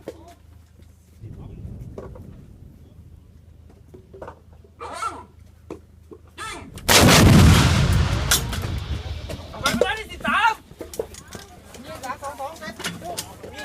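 Army artillery firing during a heated battlefield exchange: a single loud, booming blast hits mid-clip and rolls into a rumbling decay, with voices talking before and after.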